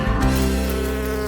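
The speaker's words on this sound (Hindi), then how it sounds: "ओह मधुमक्खी, तुम्हारी यहाँ जरूरत नहीं है।" A bee buzzes close by around a waffle drizzled with honey, a loud, steady droning hum heard alone with no talk.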